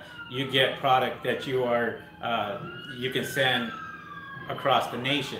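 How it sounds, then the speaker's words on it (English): Police sirens pass outside, their wailing rising and falling tones sounding steadily under someone talking close to the microphone. "Sorry for the sirens"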